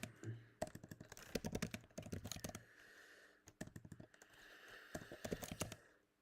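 Rapid bursts of typing on a computer keyboard, close and clicky, coming in uneven flurries separated by short pauses, with faint speech mixed underneath.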